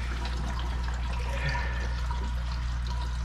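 Water gushes steadily into the plastic barrels of a DIY three-barrel koi pond filter, a constant loud rushing and splashing flow without pauses and with no talking.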